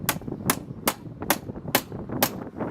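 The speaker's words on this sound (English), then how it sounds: "get an hammer, just give it a little tap" Six sharp, evenly spaced hammer taps strike a wooden door frame, each a bright crack close up in a quiet room.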